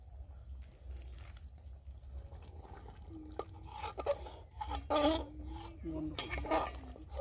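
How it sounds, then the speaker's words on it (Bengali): Meat is stirred slowly in a large cooking pot at an outdoor family picnic, with scattered metallic scrapes and clanks, and people talking faintly in the background. "মাংসটা আস্তে আস্তে নাড়ছে।"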